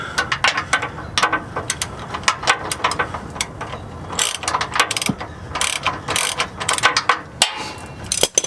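A ratchet clicks in quick bursts of pawl ticks, close and fairly loud, while snugging the shock absorber bolts on a Jeep Wrangler during a shock replacement.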